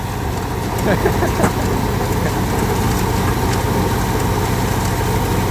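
A tractor engine runs at reduced throttle during threshing work, a steady loud rumbling drone that holds even throughout, with faint background noise layered over it.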